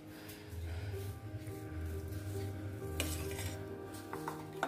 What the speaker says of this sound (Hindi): ये फिलिंग को हमने अच्छे से मिक्स कर लिया